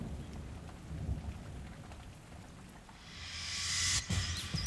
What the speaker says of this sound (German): und dann prasselt es einfach übelst runter